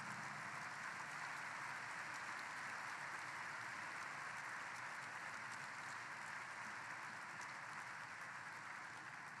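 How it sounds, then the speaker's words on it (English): An audience at a recruiting event applauding as Billy D comes up on stage, a steady, distant wash of clapping that holds evenly throughout at low volume. "Let's give him a round of applause."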